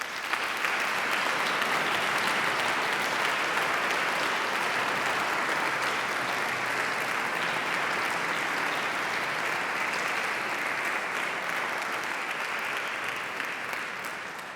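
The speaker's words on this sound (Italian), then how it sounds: "chiederei davvero un applauso" Long, even applause from the audience at a choir gala concert, many hands clapping in a dense wash that stays steady for about fourteen seconds before tapering slightly at the end.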